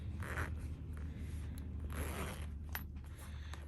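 A zipper on the outside pocket of a travelers notebook cover, heard as a few short, close rasping pulls and scrapes at a quiet level with no talking.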